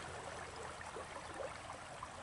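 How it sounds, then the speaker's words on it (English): Mountain creek flowing steadily, a continuous broad rushing wash of water with little variation, soft and even throughout with no voices. "Let's listen to the creek for a little bit."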